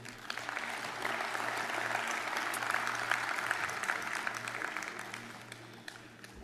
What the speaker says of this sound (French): je vous demande de l'applaudir chaleureusement